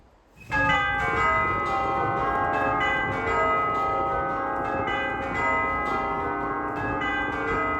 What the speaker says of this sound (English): a peal of 8 tubular bells